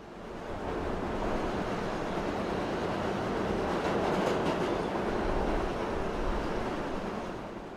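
Steady rumble and rolling clatter of a passenger train to New York, used as an effect in a Korean audiobook, holding a constant loud level across the whole stretch with a soft swell in the middle and no voices.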